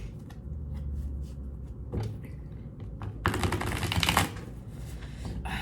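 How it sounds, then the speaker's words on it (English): Tarot cards shuffled by hand at close range, soft riffles and slides with a louder burst of flicking cards partway through, no talking. "just shuffle these up a little bit first before we start pulling."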